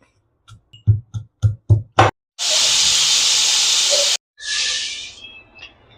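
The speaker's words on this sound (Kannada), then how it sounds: "ಎರಡು ಸಲ ಇದು ಕುಕ್ಕರ್ ಕುಗಿಸ್ಕೊಂಡಿದ್ದೀನಿ ಇವಾಗ ತೆಗಿತಾ ಇದ್ದೀನಿ" A pressure cooker that has already whistled twice is opened. A run of sharp clicks or taps leads into a loud, steady hiss of escaping steam for about two seconds, then a shorter, fading burst of hissing.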